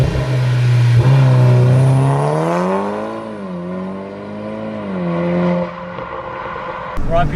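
A Volkswagen Golf R Mark 6 engine revs loudly and close on a drive. Its droning note climbs, sags, then swells again before easing off.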